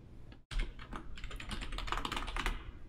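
An administrator password is entered on a computer keyboard during a Windows Server 2019 installation, producing a steady run of quick, close key clicks after a brief pause.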